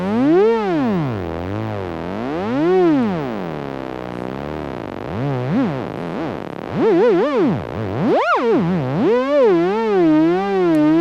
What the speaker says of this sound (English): next to this jack we have slow random, the more gradual sliding random